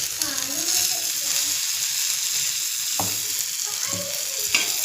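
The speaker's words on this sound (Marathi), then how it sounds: "आता यामध्ये आपण टोमॅटो घालूया" Tomatoes go into a frying pan for a peanut curry, bringing a loud, constant sizzle with a few stirring knocks and scrapes. A faint voice sits low in the background.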